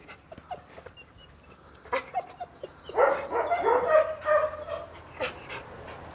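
A dog whimpers, yips and barks close by, with a busier stretch of panting and whining cries in the middle and a few scattered barks on either side.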